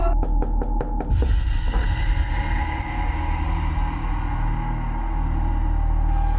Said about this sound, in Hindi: सर आलिया, दरवाजा खोलो।